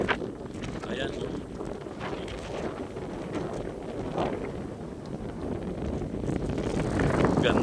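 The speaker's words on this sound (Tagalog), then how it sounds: "Grabe lakas ng hangin." A strong outdoor wind buffets the microphone in a steady rumbling roar that swells louder toward the end, and voices can be heard faintly beneath it.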